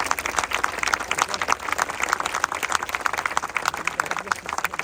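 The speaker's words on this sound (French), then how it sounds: "Oui, vous pouvez les applaudir parce qu'ils le méritent." An audience applauds a blues music group at an evening event, a lively dense patter of many hands clapping steadily and fairly near, without pause.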